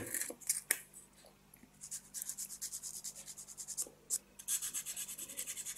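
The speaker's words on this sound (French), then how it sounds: "J'ai reponcé tous les bords." Someone sands the plastic edges of a Russo-Balt scale model kit, giving short scratchy rubbing strokes that come in irregular bursts, then a steadier run of quick back-and-forth passes, close up with no talking.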